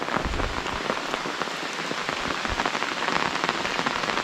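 Steady monsoon rain in the hills of India falls and patters on a nearby surface, with scattered heavier drops, continuous and fairly loud throughout, no voices.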